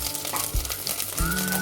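Cumin seeds hit about two tablespoons of hot oil and sizzle in a steady crackling fry, close and fairly loud, with a couple of thumps from a spoon or pan and no talking.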